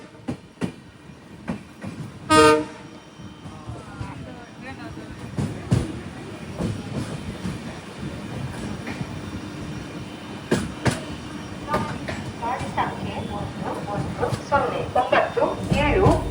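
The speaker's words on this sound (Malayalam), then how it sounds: "ട്രെയിൻ ഇപ്പോൾ ഉടുപ്പി റെയിൽവേ സ്റ്റേഷനിലേക്ക് എത്തിയിരിക്കുകയാണ്" The Poorna Express pulling into platform 1 at Udupi railway station: a rolling rumble of wheels with rhythmic clicks and a brief squeal of brakes, heard from inside the sleeper coach, with voices talking throughout.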